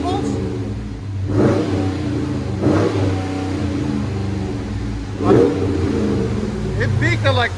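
A 2020 Dodge Charger Daytona with the 6.4L HEMI, dual exhaust and rear resonator deleted, rumbles at idle and blips into three or four loud, deep revs, heard close with people talking over it.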